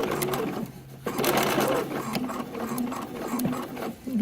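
A sewing machine stitches in the ditch along a shirt hemline, running steadily at close range with a continuous mechanical whirr and rapid needle ticking, slowing briefly near the end.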